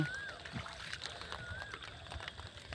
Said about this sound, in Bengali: আজকে অনেক বৃষ্টি পড়তেছে